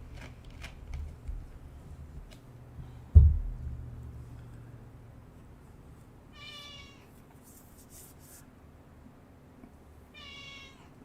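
A cat meows twice, one short bright meow and then another a few seconds later, faint and somewhat distant in a quiet room, after a single dull thump.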